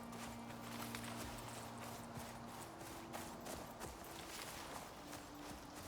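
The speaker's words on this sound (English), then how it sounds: "Ah, another horse." Horse hooves clip-clop in the video game Icarus, a string of faint, uneven knocks and thuds under a low steady hum and other background game sounds.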